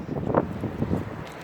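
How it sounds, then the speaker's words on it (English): Strong wind gusting outdoors at a fair, buffeting the microphone with a steady low roar that swells and eases across a short stretch, with no talk. "Really windy. I have to hear it really windy."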